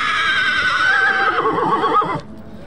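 A breeding stallion gives a loud, close whinny that holds for about two seconds before cutting off sharply, followed by quieter background.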